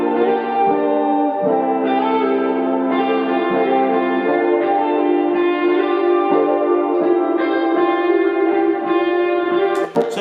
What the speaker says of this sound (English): we're going to add a guitar lead line